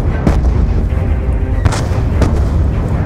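Mortar fire in the Call of Duty Black Ops 2 video game, with loud heavy booms and thuds landing repeatedly over a dense, rumbling battle din that never lets up.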